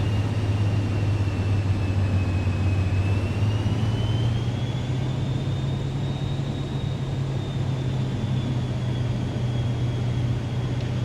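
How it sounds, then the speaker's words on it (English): Simulated aircraft in Microsoft Flight Simulator 2024 with gear down and full flaps set on approach, heard as a steady loud engine drone and airflow rumble with a faint whine slowly shifting in pitch. "Gear down. Let's go full flaps."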